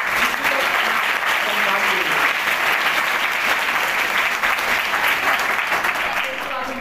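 Students in a school gathering clap steadily and loudly for nearly seven seconds, a dense, even wash of applause with no breaks.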